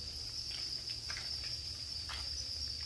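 Farmed crickets chirp in a steady, continuous high trill throughout, close and constant, with no talking over them.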